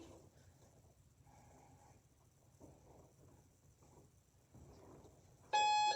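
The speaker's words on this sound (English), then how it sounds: "We're gonna go 10 seconds after the beep." A workout interval timer sounds near the end of a quiet home exercise session, a sharp electronic beep burst arriving after several seconds of faint background noise and soft breathing.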